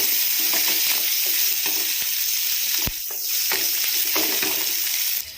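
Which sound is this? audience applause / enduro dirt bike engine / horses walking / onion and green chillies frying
onion and green chillies frying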